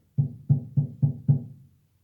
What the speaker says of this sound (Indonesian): Dep itu menekan not tetapi menekannya tanggung, tidak total, sehingga suaranya seperti ini.